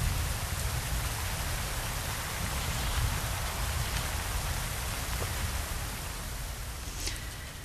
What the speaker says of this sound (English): It's raining on Relto.